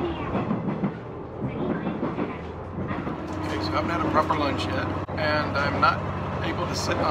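A local train in western Honshu, Japan, rumbles along the rails with a steady low drone and rattling clatter, fairly loud and close, as if heard from inside a carriage.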